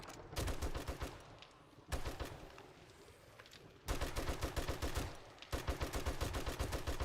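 Rapid automatic gunfire in 7 Days to Die, loud close bursts of evenly spaced shots broken by brief pauses, with four firing bursts over several seconds and no talk.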